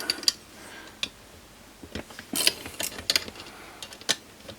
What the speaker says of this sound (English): Let's use a ratchet on it.